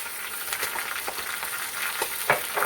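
Beef trotters fry with ginger-garlic paste and tomatoes in a pan for paya, a steady close sizzle marked by a series of short stirring scrapes and spatters, with no voices.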